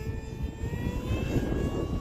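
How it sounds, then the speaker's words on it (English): Small Hobbyzone Aeroscout RC model airplane flying outdoors on a windy day, its electric motor giving a steady, fairly loud whine held over constant low wind rumble for about two seconds. "This airplane, man, I just love flying it."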